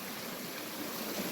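Steady rushing of a small waterfall in a valley stream, a continuous broadband splash heard alone at moderate level with no voices.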